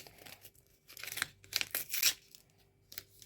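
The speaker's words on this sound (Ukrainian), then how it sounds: "знову ж таки порвався пакетик." A paper packet tearing and crinkling, close up, in several short rips and rustles, fairly quiet and with no voices.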